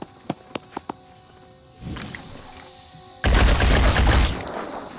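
Gunfire in the turn-based strategy game Phoenix Point: a few sharp single shots, then a rising clatter and a loud, dense burst of automatic fire near the end.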